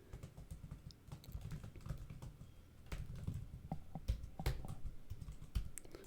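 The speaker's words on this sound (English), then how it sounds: "as I'm typing this in" Keys clatter steadily as code is typed on a computer keyboard, a rapid quiet patter of clicks with no talking.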